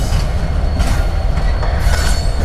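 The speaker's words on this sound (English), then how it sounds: "Coming into the yard, terminating train 123" New York Central heritage locomotive 1066 rolls into Debutts Yard in Chattanooga, Tennessee, with loud rumbling railcars and squealing wheels, a continuous close rolling clatter.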